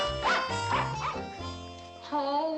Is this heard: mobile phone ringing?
no